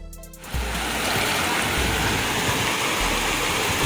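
Muddy flash floodwater in a village in Tegal or Sragen roars loud and continuous, a broad rushing wash like ocean surf that surges in after a brief quieter moment and then holds steady, with no voices.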